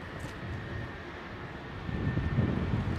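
A Virgin Dreamliner airliner at London Heathrow Airport, a low, fairly faint engine rumble with a thin high whine that swells toward the end.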